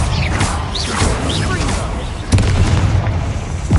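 A Confringo blasting spell in Hogwarts Legacy lands with a deep, heavy boom partway through, loud over a rumbling, clattering game soundscape.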